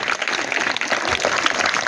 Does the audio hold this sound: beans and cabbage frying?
no